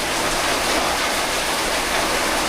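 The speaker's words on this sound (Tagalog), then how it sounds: "talaga yung ulan wala nang tigil" Steady, dense rainfall hisses continuously and loudly, a full broadband wash of water on surfaces with no voices over it.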